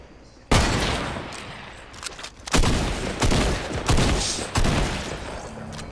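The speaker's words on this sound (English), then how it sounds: "Someone shooting southeast." Video game gunfire crackles in several loud bursts of rapid shots with sharp onsets, close and harsh, separated by short gaps, with no talking.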